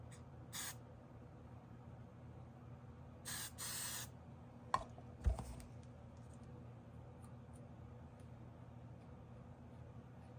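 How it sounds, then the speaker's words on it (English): Three short bursts of hairspray hiss, with a pause between the first and the pair that follows, over a low steady room hum; a couple of faint taps follow. "take some hairspray and just spray it on the beard"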